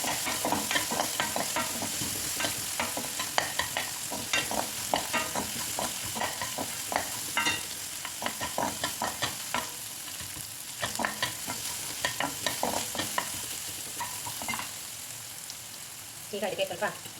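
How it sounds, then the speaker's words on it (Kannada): Dried red chillies fry in oil with onions in a pan for avalakki chitranna, a steady crackling sizzle broken by scraping stirs, close and continuous with faint talk. "ಒಣಗಿದ ಮೆಣಸಿನಕಾಯಿ ಹಾಕ್ಕೊಳ್ತಿದ್ದೀನಿ."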